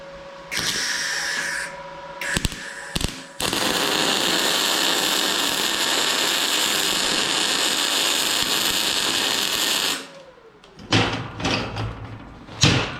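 An R-Tech portable inverter MIG welder runs at full wire speed in a loud, steady crackling buzz for about six and a half seconds after a couple of short test bursts. It stops abruptly, followed by scattered clatter nearby.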